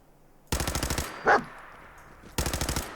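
Pistol fire in Fallout 4, two quick bursts of sharp rapid shots close and loud, separated by a short pause with a brief whoosh-like effect between them.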